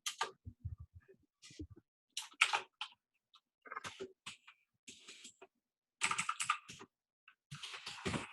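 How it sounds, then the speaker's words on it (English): Mechanical keyboard typing in bursts of rapid, crisp clicky keystrokes separated by short pauses, close and clear with no talking. "I love my mechanical keyboard."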